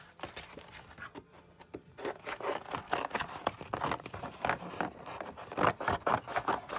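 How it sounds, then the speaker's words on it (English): Scissors cutting a 4 by 6 inch postcard shape out of a cereal box's cardboard front, a steady close run of crisp snipping and rasping strokes with no talk. "And I'm gonna cut that out."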